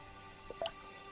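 Water drips in the horror game Bad Dream: Hospital, two or three quick plinks close together, clear against a quiet humming background.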